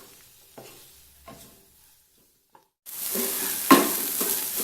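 Prawns roasting in masala in a pan start sizzling and frying loudly after a quiet stretch, a steady close hiss with stirring scrapes and one sharper clatter.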